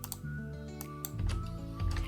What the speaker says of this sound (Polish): klikamy Ctrl D